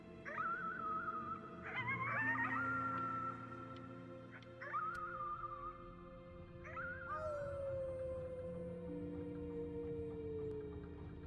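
Howling in the video game Before Your Eyes: several rising, wavering wolf-like howls with yips, layered over a low sustained musical drone, moderately distant and atmospheric.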